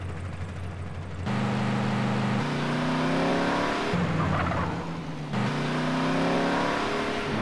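Alfa Romeo 75 engine in GTA San Andreas revving hard through repeated gear changes, a loud steady drone rising in pitch between shifts, with a brief lull before accelerating again.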